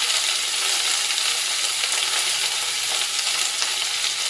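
Cabbage and carrot being stir-fried in a pan with ginger, garlic and green chilli give a loud, continuous hiss of sizzling with no talk.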